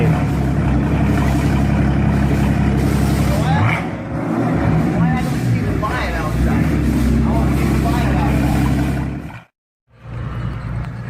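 A car engine revving loudly through factory mufflers, a deep continuous roar with a few throttle swells that cuts out abruptly near the end and then resumes.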